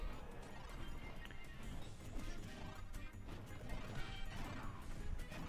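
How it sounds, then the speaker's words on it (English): Heavy smashing hits land in an amiibo tournament fight in a brawler video game, dense crashing impacts and thumps sounding close and continuous with game music behind. "Nice smashing attacks here."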